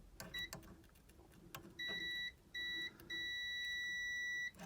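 Multimeter in continuity mode beeping while testing fuse clips on a Bally pinball machine's 10 amp feature lamp fuse: a short chirp, then longer steady tones broken into several beeps, over faint handling clicks.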